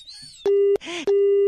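A phone line goes dead after a call is hung up, leaving a loud, steady disconnect tone in two long beeps separated by a short gap. A brief bit of speech comes just before the tone starts.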